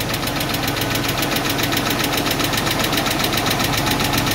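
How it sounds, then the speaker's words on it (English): A 1991 Mercedes 190E engine idles steadily up close, with a fast, regular ticking from a worn lifter that is not pumping up, giving small popping knocks over a constant low rumble. "It's like when the lifter hits, it's like pops a little."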